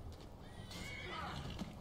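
A horse in Skyrim lets out a loud, shrill whinny that rises and then falls away, close by, with hoof clatter and faint background noise.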